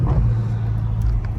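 BMW M5 Competition with a catless exhaust pulling hard in second gear, a steady, loud, close engine drone held throughout without a break.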